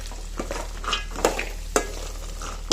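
Green beans, carrots and curry leaves frying in oil are stirred in a pan, with a steady close sizzle broken by a few sharp spatula scrapes and clacks.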